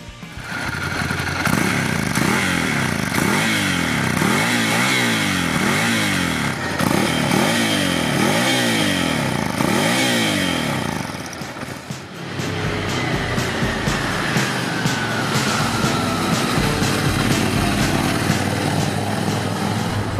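Ducati Scrambler Café Racer with an air-cooled 800 cc desmodromic L-twin making 73 hp, ridden hard. Its engine note rises in repeated revving sweeps through gear changes, dips briefly, then settles into a steady loud drone with no talk.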